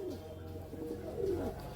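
Pigeons with a dark red body and white head coo softly and steadily in a close loft, a low murmuring call repeating through the short stretch.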